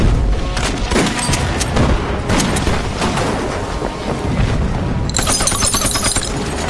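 Battle gunfire in a war action film with Japanese tanks, dense bursts of rapid shots and heavy booms layered continuously, loud and close, ending in a sharp crackling volley.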